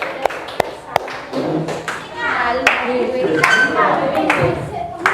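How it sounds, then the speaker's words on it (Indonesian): Classroom applause for group representatives: a few sharp claps at first, then a rougher spread of clapping mixed with children's voices, fairly loud and close. "Aplaus dulu untuk perwakilan kelompok."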